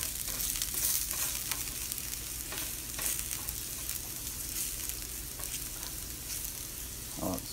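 Garlic pieces fry in a pan with a loud, close, steady sizzle and crackle, punctuated by brief stirring bursts and no voices.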